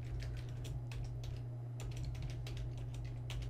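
Rapid keystrokes on a computer keyboard as a preset name is typed, irregular clicks in short bursts with brief pauses over a steady low electrical hum, fairly close.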